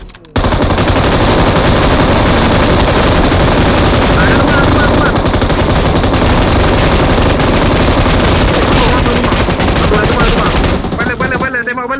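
Rapid automatic gunfire from PUBG Mobile rattles loud and nearly nonstop, dense bursts filling the whole stretch, with a voice calling out faintly over the shooting.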